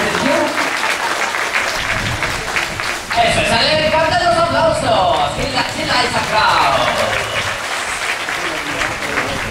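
Loud applause from a crowd at a zoo seal show fills the whole stretch, dense and sustained, with voices and cheering mixed in.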